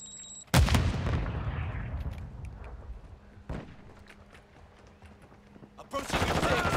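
Semtex grenade blast in Call of Duty: Modern Warfare II, a loud sharp detonation followed by a long decaying rumble, with scattered gunfire and battle noise continuing afterward and a second burst of dense noise near the end.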